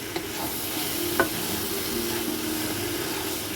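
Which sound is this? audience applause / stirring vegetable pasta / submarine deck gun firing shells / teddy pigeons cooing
stirring vegetable pasta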